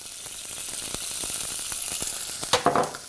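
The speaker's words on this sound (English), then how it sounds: "We just put a little bit of olive oil in there," Bacon frying in olive oil in a hot pot, a steady close sizzle with bursts of louder crackling and spitting toward the end; no talking.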